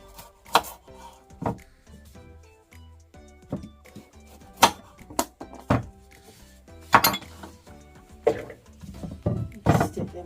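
Carrots being cut in a home kitchen, a knife striking the board in scattered sharp chops with clinks between them, fairly close and clear.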